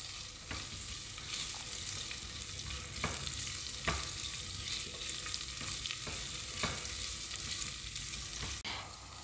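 Kasuri methi frying in a pan, a continuous soft sizzle broken by several sharp scrapes and taps from stirring, close and moderately quiet, with no talking.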